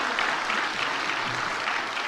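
Church congregation applauding newly appointed officers during a Sunday service, a dense, steady patter of many hands clapping together for about two seconds, fairly close and even.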